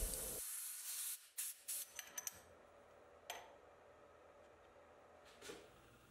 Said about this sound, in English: The sandpaper is adhered to the surface plate with a light spray of 3M adhesive.